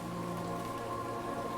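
Steady rain falls in the video game High Above, an even, close, continuous patter of drops on surfaces with a faint low hum beneath, no voices.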